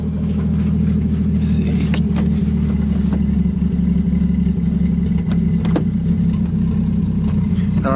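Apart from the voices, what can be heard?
Nissan 240sx S13 with 1JZ engine on first drive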